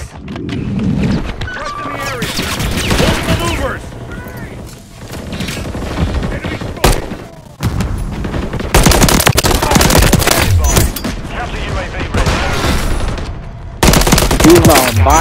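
Heavy machine-gun fire and explosions in a Modern Warfare 3 multiplayer match, loud and continuous bursts layered with game effects, with voices talking over the fighting.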